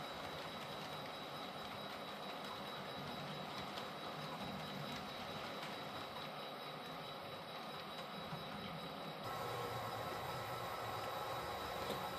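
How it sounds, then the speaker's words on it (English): A model railroad freight train rolls steadily along its track, a continuous faint mechanical rumble and whir with a light clicking texture and a high motor whine, unbroken for the whole stretch with no talk. "Our train heads into town, passing the manifest train headed in the opposite direction."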